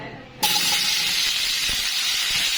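Taro pieces hit hot ghee and oil with a sudden loud, steady sizzle that starts after a short quiet moment and keeps hissing strongly to the end.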